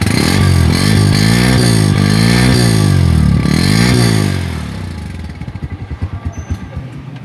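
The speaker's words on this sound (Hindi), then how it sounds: "तो बाइक आपके सामने, आपको इसका सेल्फ स्टार्ट भी चेक करवाते हैं।" Honda CB 150F motorcycle engine fires up and revs in two rising and falling sweeps, then drops into a loose, thumping idle that trails off; loud and close with no talking.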